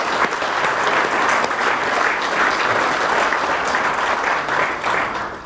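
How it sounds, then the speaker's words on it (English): A conference audience claps steadily for a panel chair, a dense sustained wash of applause throughout, fairly even in loudness and tapering slightly at the end. "a round of applause for the chair of the panel"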